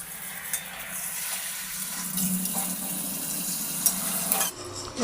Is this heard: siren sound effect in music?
no